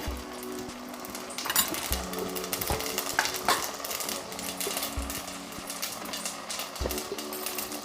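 Mustard seeds and cumin tempering in hot oil, a steady sizzle with spitting crackles and a few clanks of a spoon against the pan, fairly quiet with no talk.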